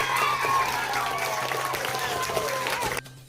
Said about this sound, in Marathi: विजयी उमेदवारांचे नाव जाहीर होताच टाळ्यांचा गजर झाला